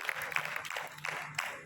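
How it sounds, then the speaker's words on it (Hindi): Group of students clapping for a classmate in a calligraphy class, a short scattered round of applause, fairly quiet and close. "तालियां बजा दो"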